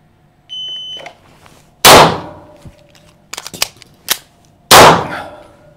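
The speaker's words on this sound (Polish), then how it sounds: "Odciągniemy, będziemy strzelać już tak, polegając na bezpiecznikach wewnętrznych." Sharp shots from a Stoeger 8000 FT airsoft pistol, a Beretta Cougar style gun, fired in a timed drill with a magazine change: three loud cracks spaced apart, with softer clicks and handling noises between them and a beep at the start.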